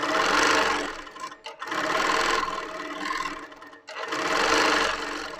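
Sewing machine fitted with a high-speed needle stitching in bursts during a quilting session: three loud, fast runs of whirring stitches separated by brief pauses.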